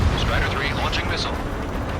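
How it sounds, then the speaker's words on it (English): A missile launches from a fighter jet during combat in Ace Combat 7, a loud rumbling whoosh over the constant roar of the engine, with radio chatter on top. "Strider 3 launching missile"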